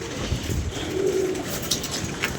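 Pigeons kept by a breeder give a low, steady cooing close by, one soft rolling coo swelling in the middle, with no voices over it.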